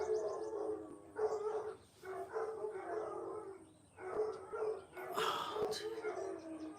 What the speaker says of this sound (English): Oh, now they're gonna howl.